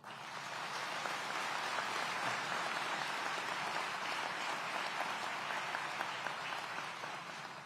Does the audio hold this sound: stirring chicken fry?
no